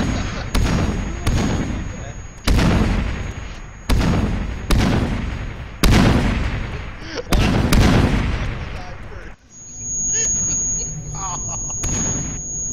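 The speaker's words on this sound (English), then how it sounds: "Who am I just lobbing a grenade at?" Grenade explosions in a video game go off in a rapid series of loud booming blasts about every second or two, then fade into a quieter stretch with a high ringing tone.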